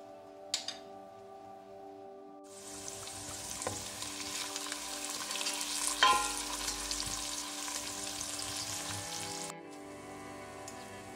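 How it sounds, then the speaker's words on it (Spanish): Chopped onion and garlic soften in oil in a cooking pot, a soft, even sizzle that starts after a few quiet seconds, holds steady, then stops abruptly near the end. "vamos a poner aceite en una cazuela y echaremos la cebolla y el ajo. Las pocharemos hasta que queden blanditas"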